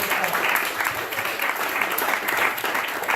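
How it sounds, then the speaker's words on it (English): Steady applause from a comedy club audience fills the whole stretch, dense and continuous at even loudness. "let's give a big round of applause for Kalius here"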